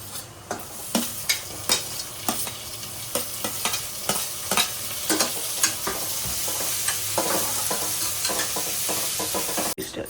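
Steady sizzling of tomatoes frying in a tempering in a pan for khichdi, with repeated scraping stirs at a fairly regular rhythm, close and moderately loud.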